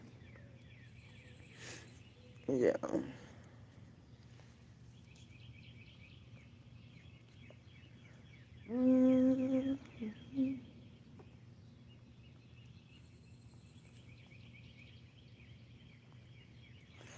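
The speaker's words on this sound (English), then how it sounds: "Oh my God, do y'all hear the birds chirping?" Birds chirp faintly in a backyard at dawn, with a few brief calls against a quiet background and one or two louder bursts of nearby sound, while a person murmurs briefly.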